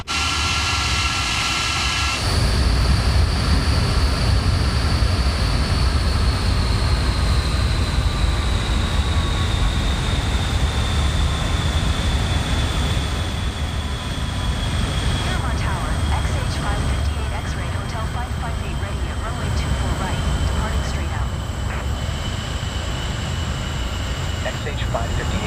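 An Avro Vulcan XH558 jet bomber taxiing in Microsoft Flight Simulator 2024, with a sustained loud jet engine whine and roar whose high tones slowly drift lower, continuous throughout, with a sharp change in the engine tone near the start.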